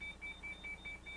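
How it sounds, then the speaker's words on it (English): Evacuation signal horn in the cabin of a Canadian Airlines Boeing 747-400, a faint, high electronic beeping tone repeating in quick, even pulses, about five or six times in a second. "Upon hearing the signal, silence the horn and conduct the evacuation."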